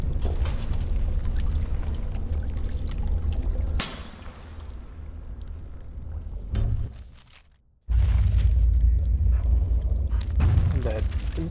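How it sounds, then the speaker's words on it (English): Water poured from an earthen jug back into a pool in the fantasy game Dragon Age: Origins, a steady rushing splash that breaks off briefly before resuming loudly, set over a low rumbling game backdrop. "Dump the water back into the pool."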